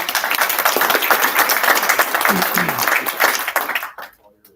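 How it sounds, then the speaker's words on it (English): A membership meeting audience gives a loud, dense round of applause that holds steady for about four seconds, then cuts off abruptly into near silence. "Please give Captain Corey Grosby a big hand of applause"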